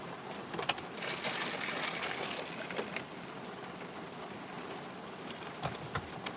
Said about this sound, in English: It's so relaxing to sit here and listen to the raindrops.